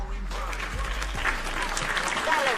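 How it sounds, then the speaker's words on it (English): A crowd gives a lively round of applause, dense clapping mixed with some cheering voices and a low hum underneath, steady at moderate loudness. "Let's give that a round of applause."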